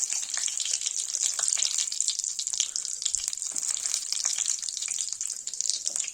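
Cumin seeds and red chilli crackling in hot oil while frying potatoes for spicy jeera aloo, a steady dense sizzle with fine popping throughout, close and moderately loud with no talking.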